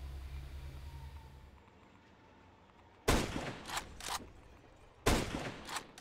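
Counter-Strike gunfire with wall-bang shots through cover on the Train map, two loud bursts of rapid shots with sharp cracks, each trailing off, after a quieter stretch of low ambient game noise.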